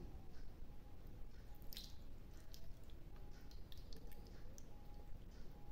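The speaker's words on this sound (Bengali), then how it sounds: "এখন আমি এর মধ্যে শিরাগুলো ঢেলে দিচ্ছি।" Sugar syrup is poured over fried carrot rings in a home kitchen, giving soft, continuous wet dripping and squishing with a few brief splashes, close by and fairly quiet.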